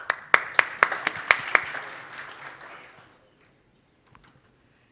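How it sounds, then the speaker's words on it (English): Conference audience applauding. A handful of sharp, distinct claps ring out over a brief wash of clapping, which fades out after about three seconds and leaves near silence. "Big applause to the first question of the day."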